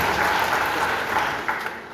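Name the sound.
audience applause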